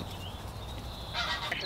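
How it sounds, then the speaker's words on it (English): A lone, injured goose with bloodied, mangled feathers honks from bushes beside a narrowboat, the calls faint and distant, rising briefly near the end over low ambient noise. "Just seen a goose in the bushes on its own"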